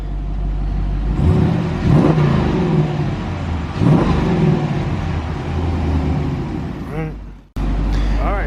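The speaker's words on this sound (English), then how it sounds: "Give it a little rev." A 392 V8 engine revs just after its first oil change, rising twice in strong roars before settling to a steady idle rumble, then cutting out briefly and resuming.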